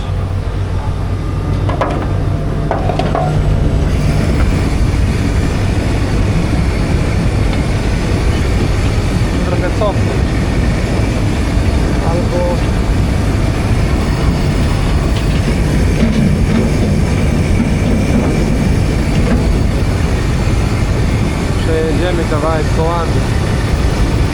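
A potato digging machine runs loudly in a field, a dense rumbling mechanical clatter with rattling and grinding that carries on steadily, while voices talk faintly underneath.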